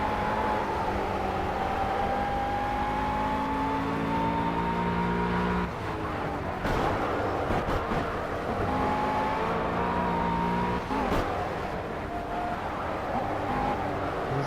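Race car engines drone steadily at Willow Springs in Project CARS, sustained high-pitched whine rising and falling with gear changes, close and continuous, with brief bursts of harsher noise midway.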